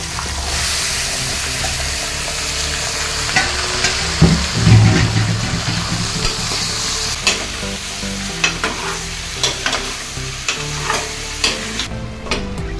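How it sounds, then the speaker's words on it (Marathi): Mutton pieces sautéed in hot oil with golden-brown onions for biryani: loud, close sizzling with vigorous stirring and scraping of a spoon in the pot, irregular clacks toward the end, no voices. "मटणाला तेलामध्ये मी चांगले परतून घेणार आहे."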